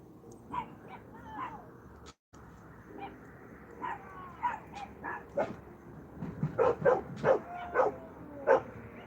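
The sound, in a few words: dogs barking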